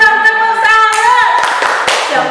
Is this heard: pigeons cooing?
no